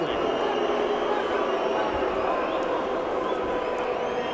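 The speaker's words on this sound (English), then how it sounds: "And the crowd booing lustily" A boxing arena crowd booing during a heavyweight bout between Rahman and Barrett: a dense, sustained roar of many voices that fills the whole stretch evenly, without breaks.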